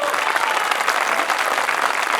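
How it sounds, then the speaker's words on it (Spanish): A crowd applauds loudly at a Heritage Day talk in Aculeo, Chile, honoring local singers; thick, continuous clapping fills the short stretch without pause or speech. "un aplauso grande"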